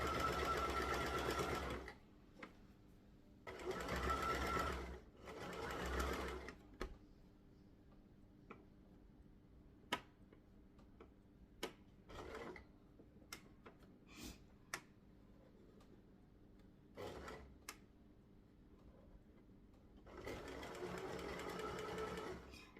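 A sewing machine stitches a scrunchie seam in several close bursts of a few seconds each, separated by quieter stretches of soft ticking and handling clicks, with a final longer run at the end.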